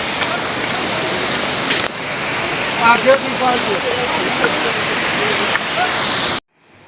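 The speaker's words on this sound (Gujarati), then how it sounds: "જો આમ ક્યાંથી ધોધ આવે ઉપરથી" A waterfall pours down from above on the Kedarnath trek in Uttarakhand, giving a constant loud rushing roar with faint voices underneath, cutting off abruptly near the end.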